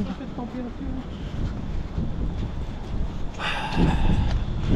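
Outdoor wind blowing during a spring tree-planting outing, a steady broadband rush with gusty swells throughout, growing louder and brighter near the end.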